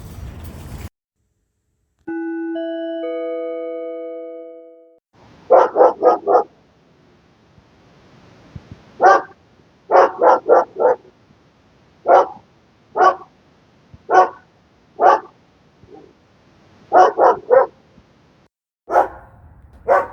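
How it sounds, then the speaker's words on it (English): A dog barks repeatedly outdoors in short bursts of two to four barks, loud and fairly close, separated by brief pauses, after a steady electronic tone at the start. "The dog barking is audible activity."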